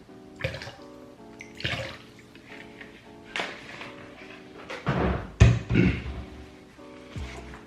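Cold water runs and splashes into a bowl for washing strawberries in a home kitchen, in uneven bursts of pouring and sloshing with a few clunks of handling, fairly close and without talk.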